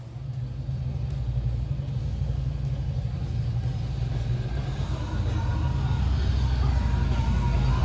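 Harley motorcycle engine idling and pulling away with saddlebag speakers fitted, a steady low rumble close by that holds throughout and swells slightly toward the end.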